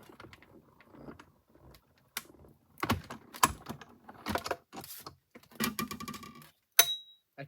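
Scissors snip through gold card scraps in a papercraft session, a run of sharp, irregular cuts and clicks at close range with short pauses between, no talking.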